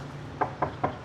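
Three evenly spaced knocks on what sounds like a wooden door, moderately loud over a steady background hum.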